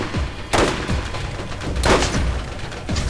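Gunfire in the Borderlands video game: a few sharp, loud shots spaced over a couple of seconds, with rumbling echoes between them and no voices.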